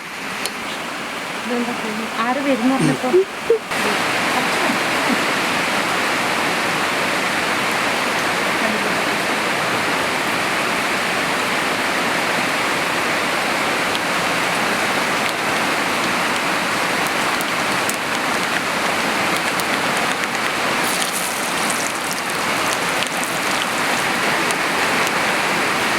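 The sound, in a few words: rain falling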